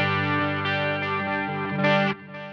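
Guitar played through a pedalboard with chorus modulation and delay: sustained, shimmering chorded tones with a wavering, doubled quality and soft repeats, steady and close, swelling brighter near the end before settling.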